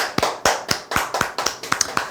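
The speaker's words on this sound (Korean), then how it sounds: "박수 한번 치시죠" An audience claps hands together in a lively burst of sharp, irregular smacks, close and fairly loud, continuing steadily for a couple of seconds with no voices over it.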